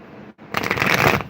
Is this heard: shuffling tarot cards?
yes